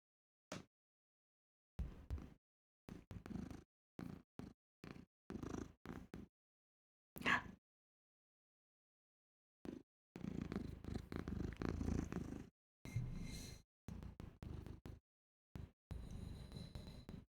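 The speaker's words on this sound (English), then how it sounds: "you can hear a cat purr" Soft, close purring comes in short rhythmic bursts separated by silent gaps, with a longer continuous stretch near the end.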